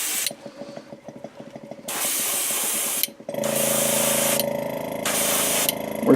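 An airbrush sprays Createx Transparent Orange paint onto a fishing lure, producing bursts of close, bright hiss that start and stop, mixed with a rapid mechanical chattering buzz in the first seconds.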